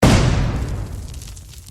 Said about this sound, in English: Faintly over the comlink came the sound of a distant explosion.